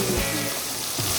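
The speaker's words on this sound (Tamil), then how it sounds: "இப்போ நல்லா மிக்ஸ் பண்ணி எல்லாத்தையும் ஒன்றா வதக்கிடுங்க." Onion, tomato and ginger garlic paste sautéing in a pan for vegetable pasta, a steady close sizzle and frying crackle with faint stirring, no talk.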